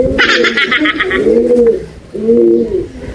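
Breeder pigeons in a loft give a few close, loud, throaty coos in repeated phrases, with a brief higher chirping burst at the start.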